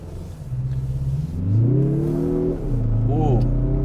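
A 2022 Mazda CX-30 crossover with a big turbo engine accelerating, its close engine note rising and climbing in pitch through gear changes, loud and steady, with a voice briefly heard over it.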